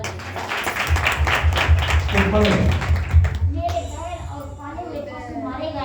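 Congregation clapping at a Sunday church service: a dense run of broadband claps for about three seconds over a low hum, then someone speaking with the clapping fading out.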